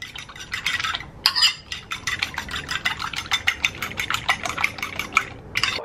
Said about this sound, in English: Then I'm gonna just whip it up.